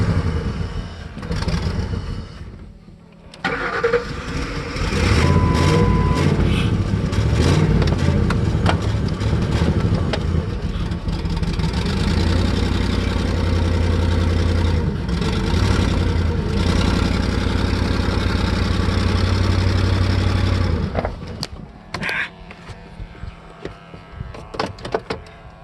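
A computer-controlled car engine running weakly on propane idles with a steady, rough mid-range drone for about twenty seconds, then cuts back, with clunks and mechanical noises before and after.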